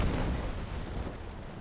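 Ship cannons on the Niagara firing in the Naval Action video game, a deep booming roar of broadside fire that starts loud and rolls off over a second and a half.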